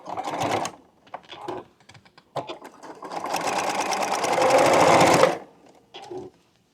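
A sewing machine stitches an African Queen quilt block, starting with short bursts of whirring, then a long, steady run that grows louder, followed by a brief final spurt.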